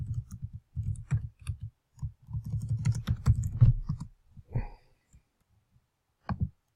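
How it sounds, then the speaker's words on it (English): Fingers tap out messages on a computer keyboard in quick, uneven bursts of close clicks, with brief pauses and a final short flurry. "start typing your messages in to the area here"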